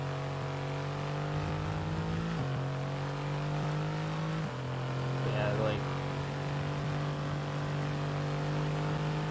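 Formula 1 race car engine in the F1 22 video game, a loud steady high-pitched drone that drops pitch twice on gear shifts and then holds, with a player briefly talking over it.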